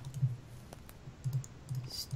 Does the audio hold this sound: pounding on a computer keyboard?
yes